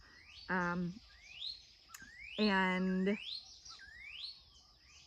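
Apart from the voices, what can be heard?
bird calling loudly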